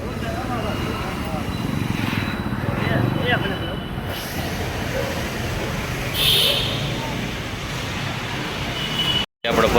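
Road traffic under a metro train bridge, a dense, steady roar of passing vehicles that holds throughout and briefly cuts out near the end.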